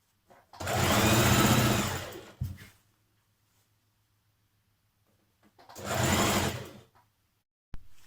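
A sewing machine stitching the side seam of a New Look 6602 dress, two sustained whirring runs, each over a second long and separated by a quiet pause, close and fairly loud, with no voices.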